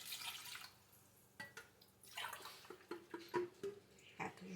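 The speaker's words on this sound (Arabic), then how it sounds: "تحطوا 2 كيسان ديال الماء" Water poured from two glasses into a pot for a home cough remedy with dates, faint splashing and dripping in uneven bursts, quiet and close.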